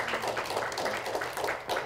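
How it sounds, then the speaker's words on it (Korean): Audience applause at a Korean power-industry forum on nuclear energy, welcoming a professor to the podium: a steady, dense patter of many hands clapping across the hall, moderately loud and continuous with no voices over it. "큰 박수로 문주현 교수님을 맞이해 주시면 감사하겠습니다"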